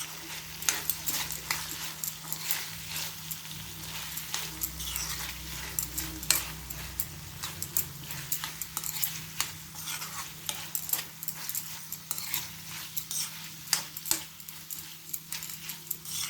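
A spoon stirs deep-fried cauliflower florets for gobi manchurian in a pan, making a string of soft scrapes and clinks over a faint sizzle, close up and with no voices.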